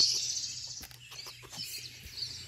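Small birds chirping and tweeting from a cat TV video playing on a wall-mounted screen, a steady stream of light calls close by with a low hum underneath.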